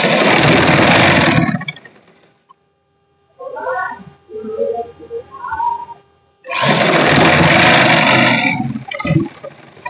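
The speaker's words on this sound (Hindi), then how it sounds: "आधा इंच का मार्जिन लेते हुए एक सीधी सिलाई लगाएंगे" A sewing machine running a straight half-inch seam on a kurti shoulder, loud continuous stitching bursts at the start and end, separated by a quieter stretch of short mechanical clicks and handling.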